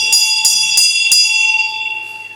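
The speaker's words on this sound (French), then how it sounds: "voilà que la cloche de la manufacture de tabac se fait entendre" A tobacco factory bell in a staging of Carmen strikes four times in quick even succession, bright and loud, then its ringing tone lingers and fades.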